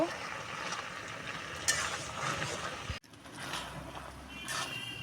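Spinach curry with mixed vegetables and lentil dumplings being stirred in a pan, giving soft scraping and clinking with a sizzle, broken by a brief pause before the stirring resumes.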